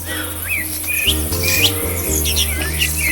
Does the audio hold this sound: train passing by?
no